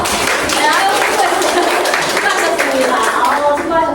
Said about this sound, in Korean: 같이 한번 박수 한번 쳐볼까요?